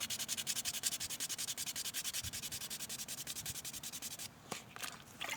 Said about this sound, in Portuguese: Eu vou lixar para tirar